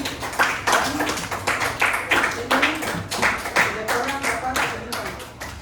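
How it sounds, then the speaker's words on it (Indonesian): Classroom students clap for classmates who answered, a dense, irregular burst of handclaps from many pupils close by, with voices mixing in throughout. "berikan tepuk tangan buat teman kalian yang sudah menjawab tadi"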